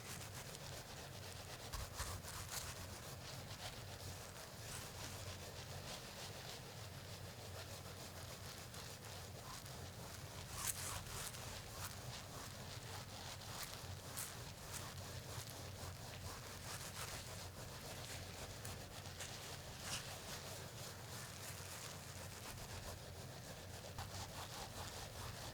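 Wet wool felt with silk being rubbed firmly by hand, a continuous soft scrubbing and swishing that stays quiet and even throughout, with no voices.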